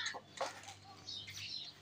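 A hen eating scattered millet feed at dusk gives short, soft clucks and chirps close by, broken by brief rustling, with no talk.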